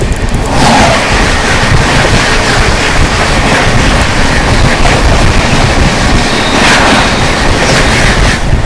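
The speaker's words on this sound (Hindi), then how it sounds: "दोस्तों सामने से आ रही है इंदौर भगत की कोठी रणथंभौर सुपरफास्ट एक्सप्रेस।" The Ranthambore Superfast Express rushes past on the adjacent track, a loud, steady roar of wheels and rushing air with rhythmic rail clatter, close and unbroken throughout.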